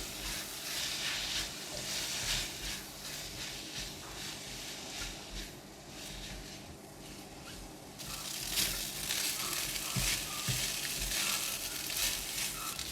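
Mushroom fried rice with sesame oil and crispy fried garlic sizzles steadily in a pan over medium-high heat, with continuous frying hiss and occasional scraping stirs, no voices.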